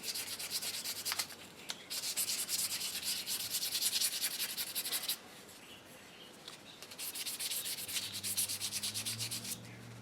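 Close, rhythmic scratchy rubbing of wet-dry sandpaper used wet, forming a slurry, in repeated bursts, pausing briefly in the middle before resuming strokes.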